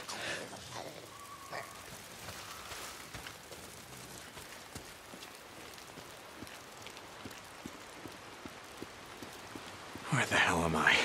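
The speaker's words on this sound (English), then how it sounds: "Oh, damn rain." Steady rain pours in the open-world survival game Days Gone, a constant hiss of drops on surfaces throughout, swelling louder and harsher near the end; a voice speaks briefly over it.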